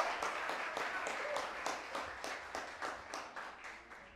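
An audience at a televised quiz-contest final claps in encouragement, a fairly quiet, rhythmic applause with evenly spaced beats, as if in unison, sustained throughout.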